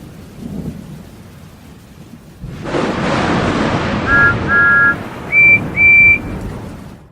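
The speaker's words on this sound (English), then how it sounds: "the wind and rain were lashing down on Cranky" A storm sound effect in a Thomas & Friends storybook reading: rain and wind lash down at the docks, a loud rushing roar that bursts in after a quieter start, with a few bright tones ringing over it near the end.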